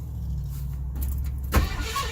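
A car engine with the choke pulled cranks on a cold start, a low rhythmic churning followed by a brief louder burst near the end, close and without talk.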